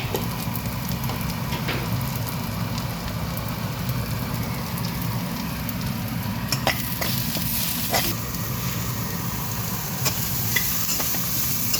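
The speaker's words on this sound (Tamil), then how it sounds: "சிறிதாக போட்டு தாளிக்கவும்" Spices sizzle and crackle in hot oil while tempering for banana blossom fry, a steady frying hiss with occasional sharp pops and stirring sounds.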